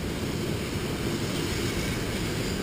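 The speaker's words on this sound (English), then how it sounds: "This is a long train, eh?" A long freight train rolls past on tracks along the Thompson River, a steady continuous rumble with faint rail clatter holding an even level throughout, no voices.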